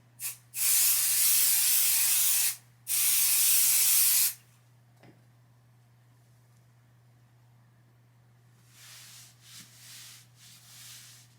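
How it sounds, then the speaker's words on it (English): Two long, loud bursts of aerosol spray adhesive hiss, separated by a brief pause, followed by quieter rustling and a few softer spray puffs, attaching a quilt top to batting. "repeat the same process using our spray adhesive to attach the quilt top to the batting"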